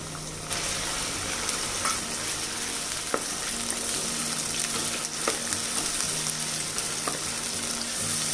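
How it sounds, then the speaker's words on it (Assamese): A ground spice paste fries steadily in a pan with a continuous close sizzle. Spatula scrapes and stirs break in now and then, and no one speaks. "মছলাখিনিক আমি ভালকৈ ফ্ৰাই কৰি ল'ম"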